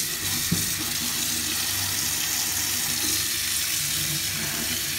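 Running water pours steadily from a tap to rinse off degreaser, a continuous hiss and splash at moderate level with no talking.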